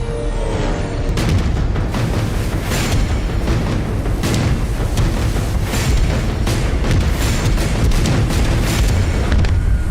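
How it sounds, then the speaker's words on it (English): Naval artillery battle fought by a surfaced submarine against German chasers: a dense, loud, continuous rumble of booming gunfire and explosions with rapid overlapping blasts throughout, no voices. "the captain had one extreme measure left: to surface and engage in an artillery battle"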